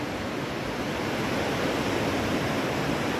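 Powerful flow of the Lohit river in mountainous Arunachal Pradesh, a dense continuous roar of rushing water filling the whole clip with no pauses.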